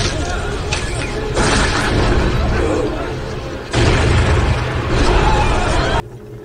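Cannon blasts from a firing squad in the anime Attack on Titan, heavy booming bursts and rumbling roar that swell twice, mixed with voices and dramatic sound, ending suddenly.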